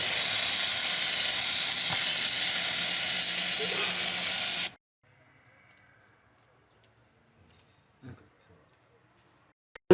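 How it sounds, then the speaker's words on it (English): Brake cleaner spraying onto a caliper mounting bracket: a loud, steady aerosol hiss held close for about four and a half seconds, then cutting off to near silence with a few faint knocks. "So we'll clean it nicely using brake clean."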